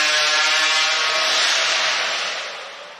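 A hot saw, a modified high-powered chainsaw, cutting through timber at a STIHL Timbersports U.S. Hot Saw competition: a loud, continuous high-pitched engine whine and cutting rasp that holds steady, then eases off toward the end.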